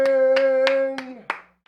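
A few sharp hand claps, around five evenly spaced smacks in a studio setting, ring out over a steady sustained tone that fades near the end, with no talking.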